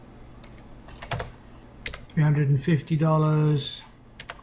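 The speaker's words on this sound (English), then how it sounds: "I'm going to type in the amounts" Computer keyboard keys click in short bursts as dollar amounts are typed into an Excel spreadsheet, mixed with a nearby voice speaking.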